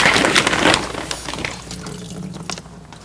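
Water drains and splashes from washed antique moss stuffing held over a sink, loud at first and then tapering to softer trickles and drips.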